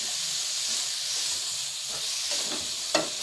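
Small cabbage florets fried in a pan for chicken vegetable pasta, giving a steady close hiss and sizzle with a few light stirring clicks near the end.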